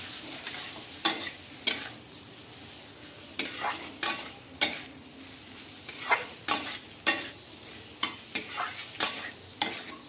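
Prawns and taro stolons are stir-fried in spice paste, with a bed of sizzling under a series of brisk, close scraping strokes of a spatula against the pan, arriving in uneven bursts, with no voices.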